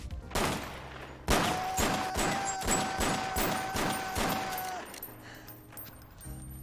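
Gunfire erupts in a movie scene from Superbad: a rapid, loud burst of repeated shots with a sustained ringing tone beneath, fading into quieter rumbling at the end.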